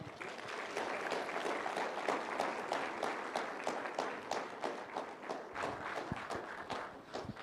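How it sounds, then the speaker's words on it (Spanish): An evangelistic campaign congregation applauds to welcome a visiting Korean pastor, a steady wash of clapping from many hands that carries on for several seconds with a brief lull near the end. "Le recibimos con fuertes aplausos."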